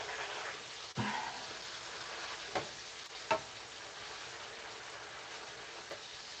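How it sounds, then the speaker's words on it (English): Meat patties with onion frying in a pan give a steady, close sizzle, with a few sharper crackles and spatters popping out of the hiss and no talking. "So I got these patties cooking now."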